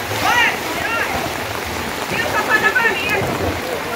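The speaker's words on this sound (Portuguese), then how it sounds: "E a chuva não para, viu? A chuva não para." Heavy rain pours steadily during a flood in Joaquim Gomes, Alagoas, as water invades a bar; a dense, continuous wash of falling water fills the scene with faint voices in the background.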